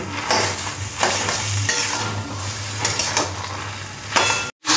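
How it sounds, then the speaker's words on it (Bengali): Taro greens cooked with chickpeas are stirred and dried out in a pan, giving soft sizzling with repeated scraping and clinks of the spatula against the metal, close and steady. "আরও 5 থেকে 6 মিনিট এইভাবে নাড়াচাড়া করে শুকনো করে নিতে হবে।"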